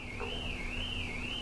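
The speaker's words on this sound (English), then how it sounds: "Don't know if you can hear that alarm going off." Electronic car alarm wailing steadily in a continuous rising and falling siren tone, moderately loud and alone, with a faint low hum underneath.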